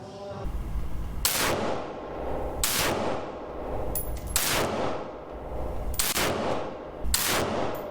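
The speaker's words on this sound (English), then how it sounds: "So I'm doing an M4, I'm doing the Tommy gun, and I'm doing the shotgun" Gunfire from an M4 rifle, a Tommy gun and a shotgun rings out as five loud, sharp shots spaced roughly a second and a half apart, each decaying into a reverberant tail.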